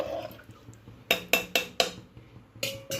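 Salt and cumin mixed into semolina undrallu dough by hand or spoon: a run of sharp, close clinks and scrapes against a pot or bowl, several quick strikes in a row, with no talking.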